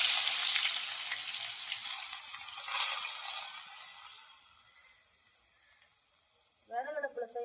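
Mustard seeds and onions fry in oil in a pan over a wood-fired stove, a bright crackling sizzle that is loud at first and gradually fades, followed by a voice speaking at the end.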